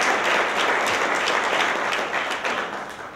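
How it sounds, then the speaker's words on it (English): Steady applause from the audience at a mayor's community service awards ceremony, a dense wash of clapping that continues evenly and fades slightly toward the end. "Let's give her a big round of applause for her tireless work."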